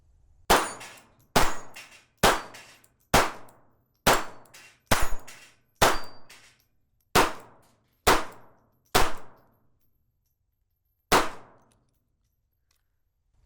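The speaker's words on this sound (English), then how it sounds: "Shooting a knot right in the center of that target down there." A Springfield Armory Hellcat .380 pistol fires hollow point rounds at an outdoor range: eleven sharp, loud shots in a fairly steady rhythm about a second apart, each with a short ringing tail, and a longer pause before the last.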